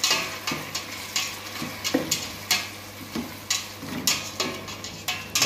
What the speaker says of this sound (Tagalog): Ilagay na po natin yung hipon. Ito po, hipon. Saka haluin.